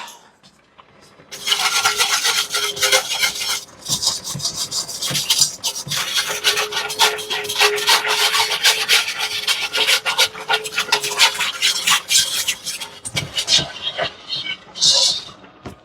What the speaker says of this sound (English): I'm going to use a whisk.